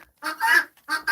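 Chickens let out loud, close squawking calls in several short bursts with brief gaps between them.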